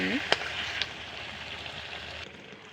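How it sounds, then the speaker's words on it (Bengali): Steady hiss and sizzle of mutton being sautéed (kosha) in a pan with potatoes, soft and continuous with a couple of quick spoon knocks early on. "এই যে মাংসটা দিয়ে আবার কষাচ্ছি।"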